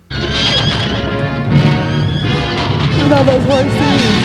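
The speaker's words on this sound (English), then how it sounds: "there are a lot of horses in the scene" Several horses whinny loudly in a scene from the 1962 film Lawrence of Arabia, their calls rising and overlapping, with a busy rumble of hooves and movement running continuously underneath.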